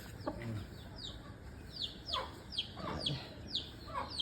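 A young chick and a gamecock cluck and cheep outdoors in a sabong setting, a string of short thin calls and low clucks at moderate distance over a faint steady hiss.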